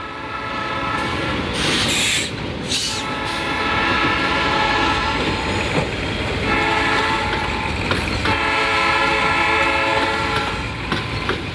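A train passes through the town of Jaraguá do Sul, rumbling loudly and steadily nearby with wheel clatter, while its horn blasts several long times.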